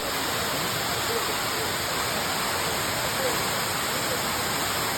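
Courtallam waterfall roars in a dense, steady wash of falling water, loud and close, continuous without pause.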